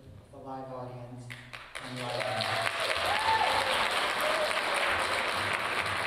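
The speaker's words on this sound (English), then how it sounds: "we can fill the audience with cheers and applause" Live audience applause and cheering for dancers at a ballet performance of Sleeping Beauty in a theater, rising after brief talk into steady, dense clapping that fills the hall.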